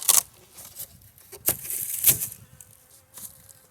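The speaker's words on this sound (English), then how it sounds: "lots of bees here." Honey bees buzzing around an opened beehive during a February hive check, faint intermittent buzzing close by, broken by sharp clicks and knocks from handling the hive.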